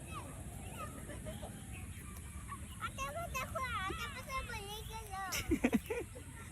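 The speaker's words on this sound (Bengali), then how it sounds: "এই হাঁস, ওই হাঁস, ওই হাঁস।" Ducks, including ducklings, grazing on grass give faint quacks mixed with people talking over a steady background hiss, and a short louder burst of calls comes near the end.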